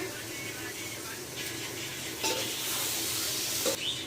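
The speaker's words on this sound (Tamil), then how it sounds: "அந்த பச்சை வாசனை போகிற வரைக்கும் வதக்கலாம்." Ginger garlic paste sautéing in a pan while chicken biryani is prepared, giving a steady close sizzle and frying hiss with occasional stirring scrapes; a voice talks faintly in the background.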